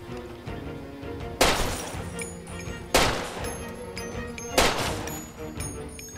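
Gunfire in the video game Far Cry 2, three sharp loud shots spaced about a second and a half apart, each ringing out with crashing, debris-like tails between them.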